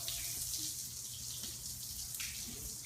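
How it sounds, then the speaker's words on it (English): Acid solution is poured onto a wet concrete garage floor, a steady hissing wash of flowing liquid and fizz that stays even and close throughout. "now as you pour the acid out"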